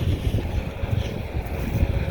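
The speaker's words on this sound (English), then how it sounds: "That wind is freaking cold." Cold wind, around freezing, gusting across the microphone outdoors during a snowy harvest, a steady low rumble and buffeting roar with no talk.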